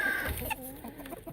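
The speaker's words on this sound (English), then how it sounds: "We have 5 roosters in this batch." A rooster from a small backyard batch lets out a short, fairly quiet cluck at close range, followed by low murmuring fowl noises.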